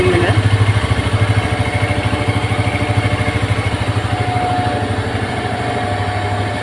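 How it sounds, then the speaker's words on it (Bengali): A TVS Raider 125cc motorcycle engine runs smoothly after a service, with a steady, close, even idle pulse throughout and no speech. "আগে যে সাউন্ডটা ছিল ওই সাউন্ড থেকে অনেক স্মুথলি সাউন্ড আসছে ইঞ্জিনে।"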